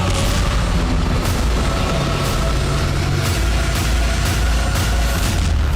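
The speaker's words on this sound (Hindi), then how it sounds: "लेकिन इस विमान में होने वाला धमाका देखिए।" A continuous loud, rumbling roar of booms and blasts, heavy and saturated throughout, from a small aircraft exploding, with rolling low thunder and no talking.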